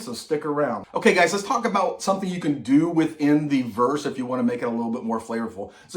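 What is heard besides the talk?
No everyday noises stand out.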